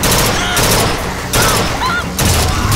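Rapid bursts of video game gunfire from a player's gun, loud and dense, coming in several sustained volleys with brief gaps between them.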